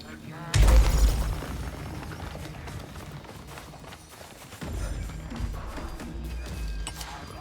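A bomb in the video game Mage of Nightingale goes off with a sudden heavy boom early on, and the rumble trails away. A second duller burst of rumbling follows midway, with game noise and faint voice-like sounds around it.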